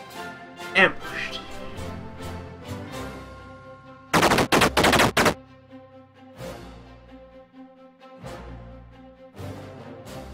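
Bursts of machine gun fire in the tank combat game Armoured Commander, one dense rapid rattle in the middle with softer shots around it, over a steady in-game hum while someone talks.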